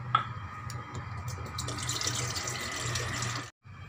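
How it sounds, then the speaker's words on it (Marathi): Cold water pours steadily from a tap into a steel pot in a home kitchen while lemonade is being made. It is a continuous close splashing rush for about three and a half seconds, then cuts off abruptly. "आता या ठिकाणी स्टीलचं पातेलं घेतलेलं आहे आणि त्यामध्ये थंडगार पाणी ओतायचं"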